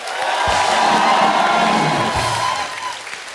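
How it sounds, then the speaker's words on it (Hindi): Loud studio audience applause and cheering on a TV comedy talk show as a famous cricketer arrives, with dense clapping, whoops and crowd shouts swelling then easing off toward the end. "अब जोरदार तालियां होनी चाहिए।"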